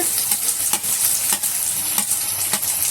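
Tomatoes drop into vegetables frying in hot oil, a loud close sizzle with repeated stirring scrapes every half second or so, no talking.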